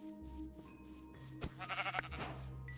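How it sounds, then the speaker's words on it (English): A sheep in the video game Minecraft bleats in a short, wavering run of cries, loud and close over steady background game music. "Sheep."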